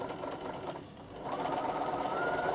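Sewing machine stitching a beginner's Christmas table runner, a steady close whirring hum that dips briefly then runs on evenly and a little louder to the end.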